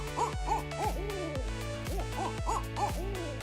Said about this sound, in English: Large nocturnal birds called barred owls are perhaps most recognized for their distinctive calls